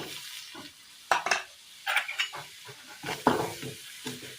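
Chilli frying with turmeric, coriander powder and meat masala in a pan makes a soft sizzle, broken by several close, sharp bursts of stirring and scraping.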